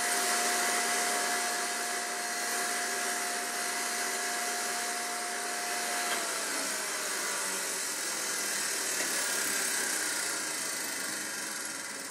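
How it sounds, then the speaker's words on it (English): A McCormick cotton candy machine runs with a loud, steady motor whir and a high hum that fades partway through, leaving a broad airy drone. "you can turn the machine off while you're still making the cotton candy and just keep picking it up until the machine stops working, stops running"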